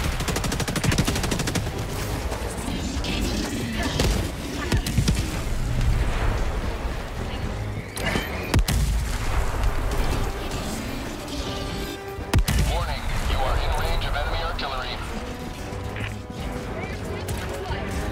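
Artillery fire in Helldivers 2 on Malevelon Creek against Automatons: dense, continuous battlefield barrage of loud gunfire bursts and heavy impacts, with sharp cracking strikes standing out amid the chaos and game voices calling out beneath.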